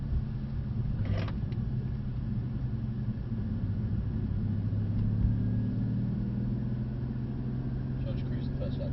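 A car cruising a lap on a race circuit gives a steady low engine drone and road rumble heard from inside the cabin, with people talking over it.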